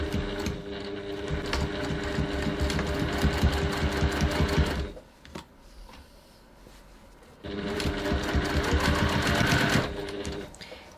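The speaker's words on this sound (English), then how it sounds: "now we're going to stitch our corners" A sewing machine stitches the corners of a fabric bag at a 2.4 stitch length, running in two steady, loud bursts of fast mechanical whirring separated by a short quiet pause.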